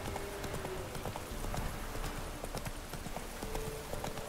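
Rhythmic clip-clop of horse hooves galloping in The Witcher 3, quick repeating footfalls with an occasional whinny, heard at steady moderate loudness alongside faint in-game ambience.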